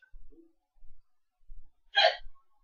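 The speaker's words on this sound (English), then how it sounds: "Hiccup." A single sharp hiccup, close and fairly loud, following a few faint low thumps in an otherwise quiet kitchen.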